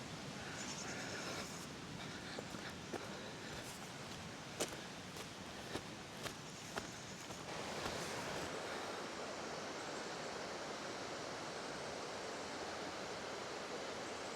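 A waterfall in the Dare Valley gives a soft, steady rush heard from a distance, with a few light footstep-like taps over it early on.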